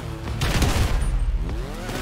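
Sniper gunfire in GTA 5 cracks out as loud, close bursts of several overlapping shots, with booming low rumble between them and no talk over the top.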